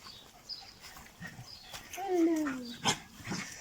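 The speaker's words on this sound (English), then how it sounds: "And then we have the doggies over there, still going crazy." Dogs whine and yelp in short bursts, with a few sharp barks, fairly quiet and slightly distant, with faint background noise.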